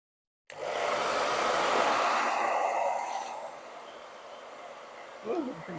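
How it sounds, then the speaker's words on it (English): A hairdryer blows at full strength right after a sudden start, being used to apply a vinyl sticker to a DJI Mini 2 SE drone. The airflow fades partway through, and faint speech follows. "We've got the hairdryer out."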